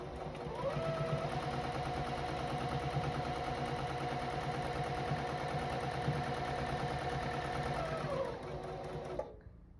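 A sewing machine runs flat out stitching a makeup bag, producing a steady, rapid mechanical whir. It starts just after the opening, holds an even pace for about eight seconds, then slows and stops.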